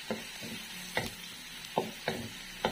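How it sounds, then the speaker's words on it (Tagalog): Ginger and garlic sauté in a pan with a quiet, hissing sizzle and about six light scraping stir strokes spaced through the short stretch, close and fairly faint, with no voice. "So, uunahin ko yung luya at bawang. Then, gisa lang natin."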